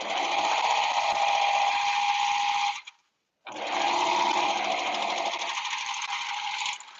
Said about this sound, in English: I'm going to serge slow so that the plug doesn't come out of it.